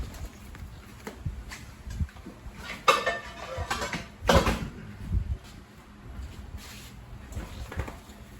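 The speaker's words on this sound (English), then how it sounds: "This is our target. Now I know you think it's a frying pan." Metal cookware clatters and scrapes as a frying pan is handled, with a couple of louder clanks amid quieter rustling and knocks.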